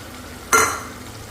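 Koftas drop into a hot pan of oil and burst into a sudden loud sizzle that fades over the following half second, against a quiet kitchen background.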